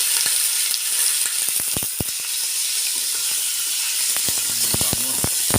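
Onion and meat frying in a pan for a Sunday lunch, a steady loud hiss and sizzle with scattered crackles, scraping and clinks of stirring throughout.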